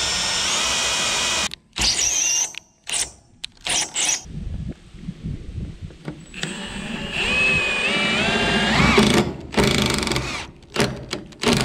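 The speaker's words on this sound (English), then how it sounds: "with 3 rows of screws we're gonna drill about 70, almost 80 holes" Power drill driving screws into wooden equipment trailer deck boards, repeated loud whirring bursts with short pauses between screws and a longer sustained run, close up.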